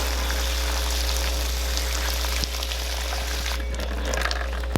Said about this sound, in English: So really put the water to it.